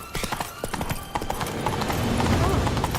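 Galloping horse in The Witcher 3, a rapid, steady clip-clop of hooves running close and loud for about three seconds, with a brief whinny and game voices over it.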